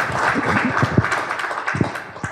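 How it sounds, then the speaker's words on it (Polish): An audience at a local election convention applauds, with moderate, fairly close clapping and a few distinct sharp claps standing out as it tapers off. "Brawa dla pani."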